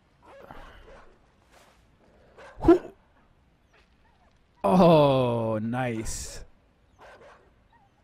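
A dog in the game Inside gives a sharp yelp, then a long drawn-out whining bark that trails off, heard close and loud between brief bits of someone talking.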